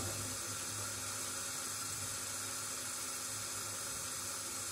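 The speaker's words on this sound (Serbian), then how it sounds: "Sad ću ovo napuniti vodom" Water runs from a tap into a container, a steady broadband rush and hiss that holds evenly from start to finish with no voices over it.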